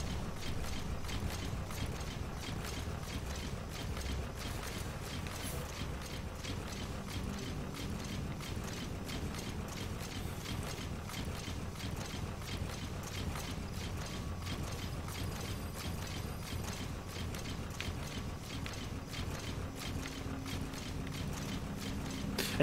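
The D-Walker mech from Metal Gear Solid V strides along with rapid, regular mechanical clanks and ratcheting gear sounds, a dense metallic rhythm running steadily throughout.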